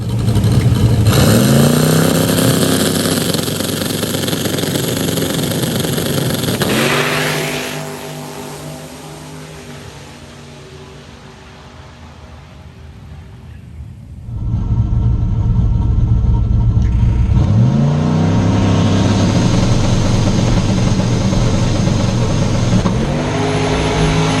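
A turbocharged LS-swapped Chevrolet S10 pickup roars down a drag strip, engine revving hard through gear shifts, easing off midway, then loudly accelerating again.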